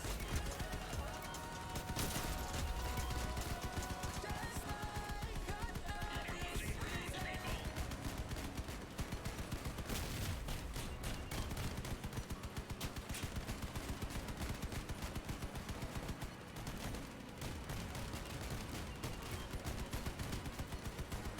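Rapid arena video game gunfire rattles on almost without pause, dense bursts of shots forming a steady loud barrage throughout, with a voice talking over parts of it.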